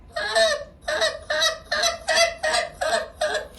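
A goose call blown by a novice contestant at a live goose-calling competition runs a quick spit sequence: about eight sharp, evenly spaced honks, loud and close, with no talking.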